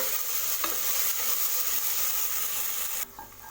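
Ginger garlic paste sautéing in a hot pan, a dense continuous sizzle with a faint stirring scrape, the hiss dropping away abruptly near the end.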